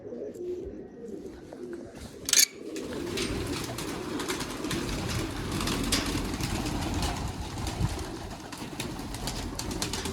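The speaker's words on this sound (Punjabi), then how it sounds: "ਆ ਕਬੂਤਰੀ ਨਿਕਲ ਆਈ ਆ" Large pigeons coo softly and repeatedly at a loft in Punjab, set against steady background hum and one brief sharp noise. The birds are fairly close but quiet.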